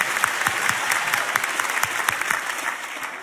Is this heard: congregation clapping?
yes